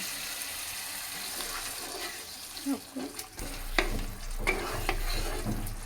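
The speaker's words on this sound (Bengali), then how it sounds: "দই দিয়ে ভালো করে এটাকে কষিয়ে নেব মশলাটা" Prawn masala being stir-fried with whisked yogurt, with soft sizzling and a few sharp scrapes and clinks of a spoon against the pan, close and fairly quiet, with no talking.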